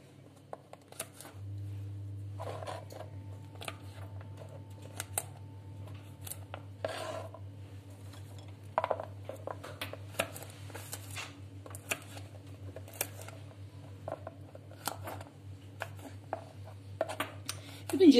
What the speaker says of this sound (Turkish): Bütün cevizlerimi bu şekilde ufak ufak doğrayacağım arkadaşlar.